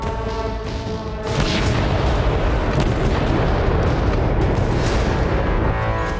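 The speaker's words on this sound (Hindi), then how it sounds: "इजरायली वायुसेना के दक्षिणी लेबनान में हिजबुल्लाह के कई ठिकानों पर बमबारी की।" Israeli air force bombing of Hezbollah positions in southern Lebanon comes through as a loud, continuous rumbling roar of blasts that swells after the first second and holds steady.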